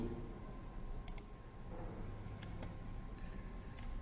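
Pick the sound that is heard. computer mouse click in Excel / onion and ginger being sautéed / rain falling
computer mouse click in Excel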